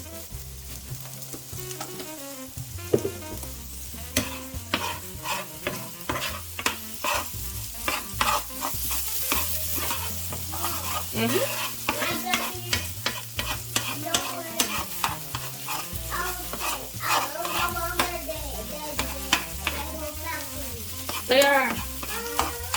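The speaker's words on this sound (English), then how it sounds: "I'm just gonna put a little bit of this, just to brown my onions and garlic." Onions and garlic browning in a pan for seafood lasagna rolls, with continuous sizzling under busy, rhythmic scraping and stirring that runs close and fairly loud throughout. A single short spoken word comes near the start.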